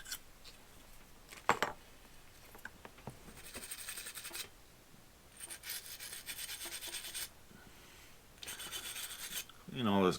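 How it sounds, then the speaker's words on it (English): Gunk is scraped and cleaned out of a vintage motocross bike part in bursts of rasping, scratchy strokes between quiet pauses, close but faint. "Clean all this gunk out of here."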